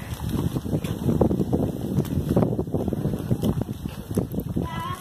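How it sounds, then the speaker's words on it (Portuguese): Steady beach wind buffeting the microphone with a continuous rough rumble and hiss, loud and close, while the family walks toward a beach house. "Muito bom esse vento de praia"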